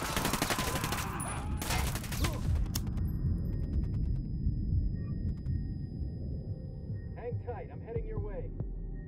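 Sniper gunfire in Ghost Recon: Wildlands, a burst of sharp repeated shots at the start that gives way to quieter game ambience, with voices talking over part of it.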